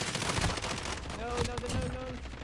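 Hip-fired gunshots ring out in Call of Duty: Modern Warfare amid a busy, noisy firefight, a few loud cracks mixed with other battle sounds, with a voice briefly audible in the background.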